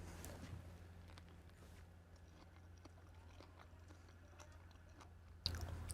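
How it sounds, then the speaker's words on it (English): Quiet, close chewing of a Nero 600M fig, with soft, faint crunches from the seeds over a low steady hum and a brief louder bump at the end. "It's a little bit crunchy from the seeds"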